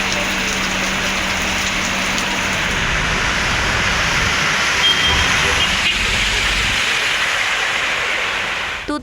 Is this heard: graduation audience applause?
no